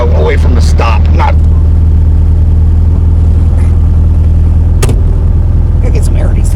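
A 1968 VW Karmann Ghia engine drones loudly and steadily as the car pulls away and revs out, close and constant, with a voice breaking in over it at moments.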